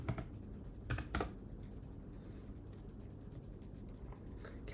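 Soft keystrokes on a computer keyboard as a command is typed, quiet and fairly close, with a few clustered clicks over a low steady background hum.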